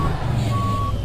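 A truck's reversing alarm beeps in a steady tone, loud and close over a low idling engine rumble while the truck backs up to hook onto a trailer.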